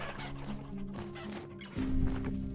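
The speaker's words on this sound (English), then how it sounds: "Chickens." Chickens clucking in the video game Vintage Story, several short repeated clucks close by over a low game ambience.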